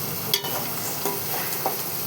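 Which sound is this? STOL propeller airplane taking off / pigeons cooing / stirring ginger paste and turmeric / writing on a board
stirring ginger paste and turmeric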